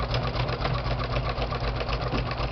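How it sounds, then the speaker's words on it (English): A sewing machine stitches fabric postcards at a moderate pace with loosened thread tension, giving a steady rapid mechanical chatter and hum, loud and close, with no voices. "I'm not sewing too fast because I want"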